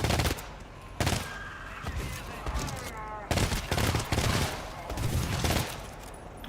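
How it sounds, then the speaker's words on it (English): Bots in the video game GTFO fire rapid bursts of gunfire, with loud, sharp repeated volleys in clustered rhythm, several strings of shots separated by brief pauses, and faint game sounds between them. "I love hearing them shoot like 30 shots in a row"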